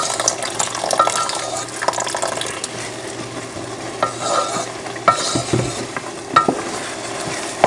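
Water is poured into a pot of boiling rice being cooked for Sri Lankan milk rice, with splashing, bubbling and stirring scrapes mixed in a busy, close, uneven kitchen sound.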